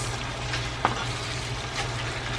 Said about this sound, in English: Alright people, see they now salt mackerel in a pot.